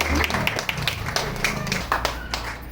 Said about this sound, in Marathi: जोरदार टाळ्या द्या